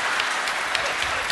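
Audience applause at a writers' festival in Sydney, a steady wash of many hands clapping throughout, dense and even with no voices rising above it.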